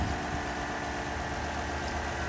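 A 2016 GMC Acadia Denali-style SUV, the GMC Elevation, idling low and steady, a constant close engine hum with a faint even pulse and no voices.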